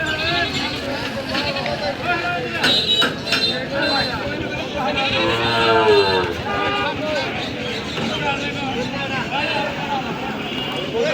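Goats bleating at a busy cattle market, several loud wavering bleats rising out of steady crowd chatter, with a voice talking close by.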